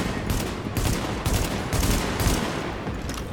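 Enemy boss in The Division game firing bursts of gunfire from a distance, dense rapid automatic shots repeating in several loud bursts over steady combat noise.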